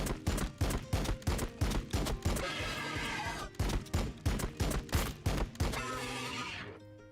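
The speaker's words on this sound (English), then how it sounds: "Firing on the enemy." Terminators in Warhammer 40K Battlesector fire their guns in rapid, loud repeated bursts, a rhythmic volley of sharp shots broken by a short lull and then more firing before it trails off.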